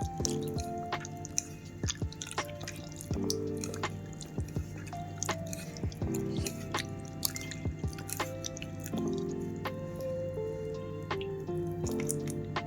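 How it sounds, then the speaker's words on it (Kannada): Tamarind juice is poured onto raw country chicken for marinating, producing scattered wet drips and soft squelches up close, irregular and fairly quiet, with no voices. "ನೆಕ್ಸ್ಟ್ ನಾನು ಹುಣಸೆ ರಸ ಹಾಕ್ತಿದ್ದೀನಿ."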